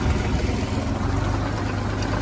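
A tractor engine runs at about 1650 RPM, a steady low, rumbling drone, close and alone without pauses.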